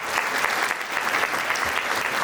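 Guests at a Chothani family reunion gathering in Rajkot clap together. The applause is a thick, continuous patter, fairly even in loudness, and no voices are heard over it.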